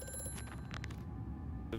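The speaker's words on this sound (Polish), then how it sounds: "telefon" Telephone bell ringing in the horror video game Amnesia, a steady repeating ring at moderate level over a dark ambient background, with no talk.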